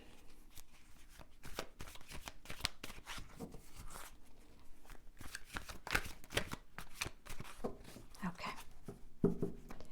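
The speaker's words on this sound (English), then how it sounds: "Let me put my cards back." A deck of tarot cards gathered and shuffled by hand, a dense run of quick riffling flutters and soft slaps continuing for several seconds at close range, with faint speech in the background.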